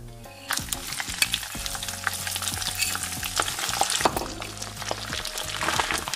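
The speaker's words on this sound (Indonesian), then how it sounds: "Kemudian kita goreng lagi dagingnya." Dried beef dendeng sizzling and crackling in hot oil during a second frying, with stirring scrapes and clinks of a utensil against the pan, close up and continuous.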